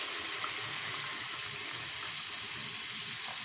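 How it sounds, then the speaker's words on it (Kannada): Water poured into a pot of Coorg-style wild mango curry as it cooks, a steady, soft splashing and gurgling stream that runs continuously for a few seconds. "ಈ ನೀರು ಹಾಕಿ ಸ್ವಲ್ಪ ನೀರು ಹಾಕ್ತಾ ಇದ್ದೇನೆ"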